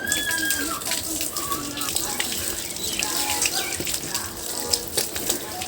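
Water splashes and pours over a motorbike during a wash, an irregular wet spattering with brief gushes, while voices talk over it.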